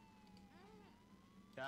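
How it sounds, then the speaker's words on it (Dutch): An ambulance siren wails faintly and far off in the Emergency 4 video game, set in Los Angeles. Its tone slowly sweeps beneath a low hum, and a brief louder rustle comes at the end. "ik hoor een ambulance"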